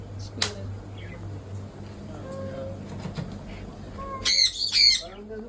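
Birds at a pet shop squawk and chirp in short scattered calls, with a sharp burst early on and a louder cluster of harsh squawks near the end over faint background noise.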